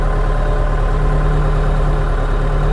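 A Scout 404C tractor engine runs steadily in lowered third gear at around 1100–1200 rpm, a loud, continuous low chugging drone with a rhythmic throb and no pauses.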